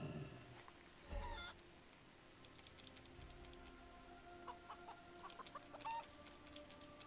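Magical Rooster mount in World of Warcraft giving a few short clucks and squawks, layered over steady game background ambience, fairly quiet, with a louder burst early and another near the end.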